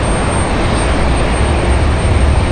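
American Airlines A321 airliner departing, a steady loud broadband engine roar with deep low rumble that holds constant throughout, no voices present.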